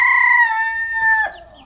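Chicken in a backyard flock sounds a loud, close, drawn-out crow with harmonic tones, ending in a brief cluck.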